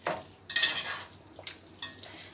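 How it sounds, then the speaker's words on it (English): Seasoning being stirred into pork in a pot for Jamaican brown stew, with a few scraping, clinking spoon strokes against the pot, fairly close and moderately loud, no talking. "I'll just stir that into the meat."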